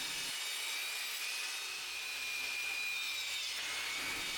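A saw blade cuts through a piece of plywood with a continuous, close, gritty whirring rasp that holds steady for a few seconds.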